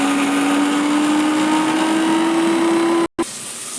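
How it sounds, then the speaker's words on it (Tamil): A mixer grinder whirs steadily while grinding four garlic cloves into paste, a loud continuous motor drone that cuts out abruptly near the end, then briefly resumes. "ஒரு 4 பல்லு பூண்டு போட்டு அரைச்சி எடுத்து வச்சுக்கணும்"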